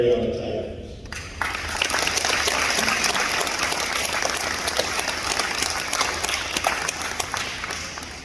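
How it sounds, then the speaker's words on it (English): Dense applause fills a school awards ceremony at Swink Junior High, starting abruptly after a short spoken moment and continuing loud and steady for several seconds. "We give them all a round of applause."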